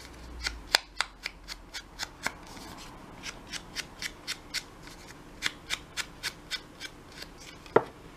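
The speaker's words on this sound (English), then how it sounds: "I'll distress around the edges so that it stands out all the more" A paper envelope's edges are distressed with ink, giving a steady, even series of brisk rubbing swipes, about two per second, close and alone.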